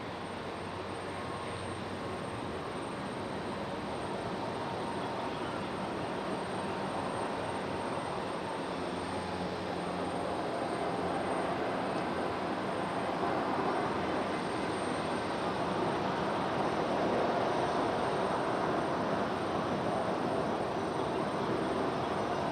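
A jet airliner takes off from runway 23 left at Raleigh-Durham in stormy weather, its engines a steady, broad roar that swells slightly toward the end and holds throughout with no voices.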